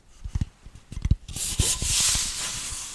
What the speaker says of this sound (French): pas apprécier les sons que font les boîtes à la con que tu m'as ramené